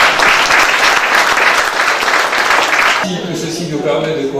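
Applause from an audience at a Rotary district conference, a loud burst of crowd clapping for about three seconds that breaks off abruptly, followed by someone speaking into a microphone.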